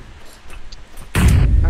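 Video game gunfire in a one-on-one match, heard as a sudden loud burst of shots that starts after a second of quiet background and continues to the end.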